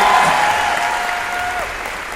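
Loud applause from an audience at a Vestige award function in Delhi, honoring mentor Sonu Sharma; steady dense clapping fills the room throughout, with a faint whistle-like tone drifting across it.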